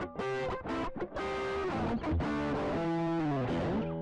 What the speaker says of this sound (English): It's a pretty strong distortion.